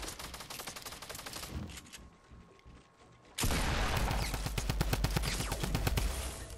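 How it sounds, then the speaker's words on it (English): Rapid automatic bursts from a Tommy gun in the Fortnite battle royale video game, loud continuous gunfire with a brief quieter gap midway before a dense, sustained volley. "Loving the Tommy gun."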